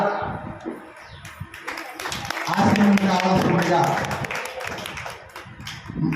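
An audience claps in welcome for a guest speaker at a Telugu religious discourse; a burst of applause rises midway and carries on under a man's continuing speech.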